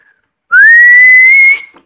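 An oversized toy whistle blown once, giving a loud, steady shrill tone that rises slightly and holds for about a second before cutting off, heard alone without talk.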